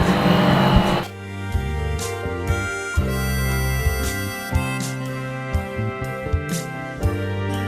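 A 100 watt laser cutter drives its Z axis down: a stepper motor whines with steady pitched tones that shift in steps, broken by regular ticks. A broad whoosh opens the clip, and the motor runs close and loud throughout.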